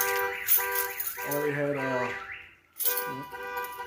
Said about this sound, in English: My alarm would decide to go off.